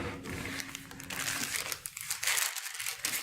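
Plastic medical packaging crinkles and crackles up close as it is pulled fully open, a busy run of rustling and crumpling with no talk over it.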